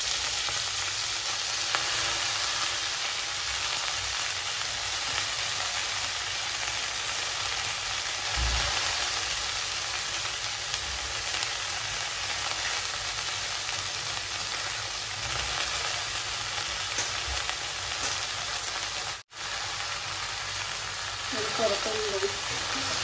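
Fenugreek leaves for methi bhaji fry in a pan with chili and garlic, a steady close sizzle with occasional stirring scrapes and faint talk.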